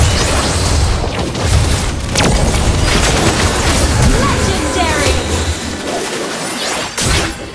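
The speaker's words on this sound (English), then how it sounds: "Our turret has been destroyed." A turret being destroyed in a Mobile Legends match, a dense loud crash and boom of battle effects with game voice lines mixed in throughout.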